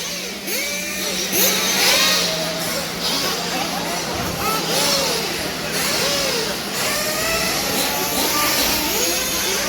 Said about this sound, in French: ils chauffent les moteurs bien à l'avance